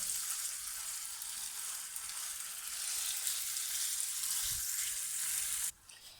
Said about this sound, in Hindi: अब हम इसे बहुत अच्छी तरीके से हाई फ्लेम पे भून लेंगे।